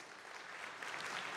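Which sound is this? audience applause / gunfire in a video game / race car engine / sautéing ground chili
audience applause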